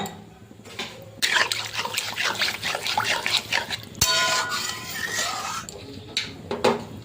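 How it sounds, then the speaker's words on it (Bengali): Water is poured into a small fish and tomato sour curry, a brief splashing pour followed by bubbling and liquid sloshing in the pan, with clinks of a utensil and quiet stirring. "জল দিয়ে দিলাম, এটা একটু পাতলা পাতলা হবে।"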